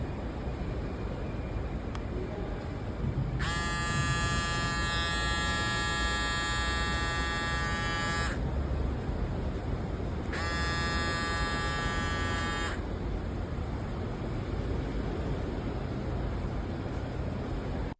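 An electric shaver runs in two bursts, a long steady buzz of about five seconds and then a shorter one of roughly two seconds, with a quiet background hiss before, between and after.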